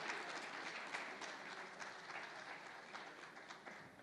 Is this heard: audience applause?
yes